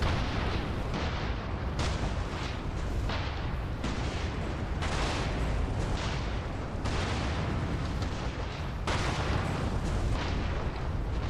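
Artillery fire in a war video game, a dense continuous barrage of booming blasts and rumbling explosions, loud and unbroken, with repeated heavy impacts throughout and no voices.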